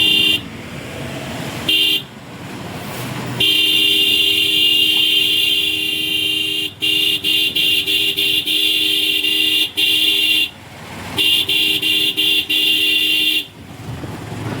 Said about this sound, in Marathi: ट्रॅफिक थोडी सुरू झालेली आहे।